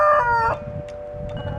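A rooster on a homestead lets out a short crow, followed by a few softer clucks from nearby chickens, close and clear with no talking.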